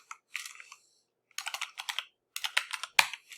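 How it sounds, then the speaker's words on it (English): Typing on a computer keyboard, heard in three separate clusters of rapid, close key clicks split by short silences, with a sharper final keystroke that sounds like a press of the enter key. "Let's see if it will let me type up here."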